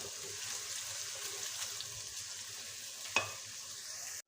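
Steady, soft sizzling of onions frying golden in a pan for beef korma, with a brief stirring clink near the end.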